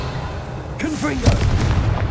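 A Confringo blasting spell going off in Hogwarts Legacy, with a single loud boom and rumbling burst right after a spoken incantation.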